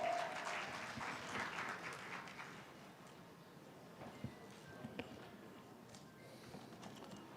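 Applause from a conference audience, loudest at the start and thinning into scattered claps, on the stage of a world Islamic economics and finance conference in Lahore after a vice chancellor is introduced.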